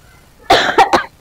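A woman coughs three times in quick succession, close and loud, a short harsh burst followed by two sharper coughs, with no talking.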